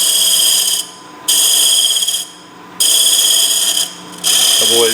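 A skew chisel cuts a wooden doughnut on a spinning lathe in loud, close bursts of high, harsh scraping that come in several separate passes with quieter gaps between.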